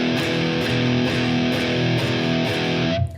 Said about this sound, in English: So if I don't mute, the chord sounds like this.